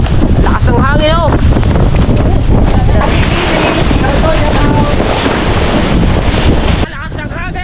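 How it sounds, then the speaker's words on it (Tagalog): Strong wind at the seashore in Bukana buffets the microphone in a loud, continuous roar over crashing surf, with a voice shouting through it. "Lakas ng hangin! Dito! Sa dagat!"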